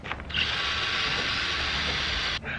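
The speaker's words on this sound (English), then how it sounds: "Drill bit's walking." A steady high-pitched drill whine as the bit bores into car plastic, running for a couple of seconds, cutting off sharply near the end with a brief restart.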